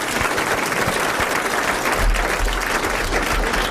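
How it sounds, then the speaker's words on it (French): Studio audience at a French television show applauding, a dense, even burst of clapping that stays loud and steady from start to finish. "vous applaudissez Monsieur Lenné de Dijon"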